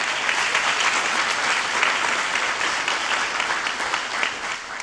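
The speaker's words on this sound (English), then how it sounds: "How about a big hand for the MC?" A large audience at a civic State of De Pere 2024 event claps loudly for the MC, dense sustained applause filling the room and holding steady before easing slightly toward the end.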